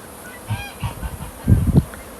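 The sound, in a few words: geese honking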